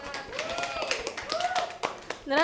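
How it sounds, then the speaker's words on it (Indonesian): Brief scattered hand clapping from students in a university biology education class session, a short burst of claps heard under overlapping talk. "Tepuk tangan dulu."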